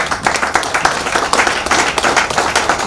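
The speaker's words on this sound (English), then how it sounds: "So I want us to give her a round of applause," A live audience applauds at a volunteers' tourism event in the FCT, with dense, steady clapping from many hands that holds at a fairly even level for about three seconds.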